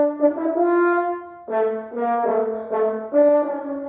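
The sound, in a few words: French horn playing fast passage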